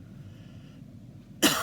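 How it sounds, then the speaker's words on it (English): A single sharp cough bursts out at the end, loud and close, after a stretch of quiet low room noise. "So when I cough, it pulls out."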